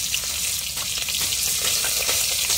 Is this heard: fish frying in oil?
yes